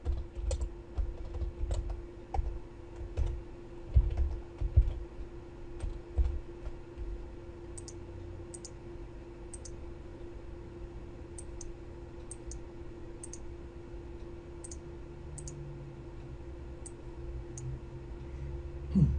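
Computer keyboard typing in short bursts of clicks, close and fairly quiet over a steady electrical hum, with no talking.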